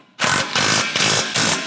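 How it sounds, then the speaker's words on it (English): Ratchet with an 18mm socket tightens the lower shock bolts on a 2021+ Ford F-150 during a suspension install, four loud, close bursts of rapid clicking in a steady rhythm, with no talk. "We're gonna tighten up these lower shock bolts"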